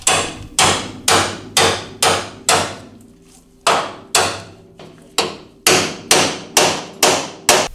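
Sharp, evenly spaced hammer blows strike rivets to knock them out of a 1965 Chevy Nova car frame, about a dozen loud metallic hits with one short pause midway and no talking.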